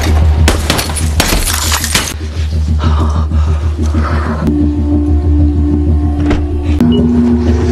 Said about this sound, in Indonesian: seorang wanita yang sedang mendobrak kaca mobil